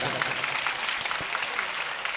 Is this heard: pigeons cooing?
no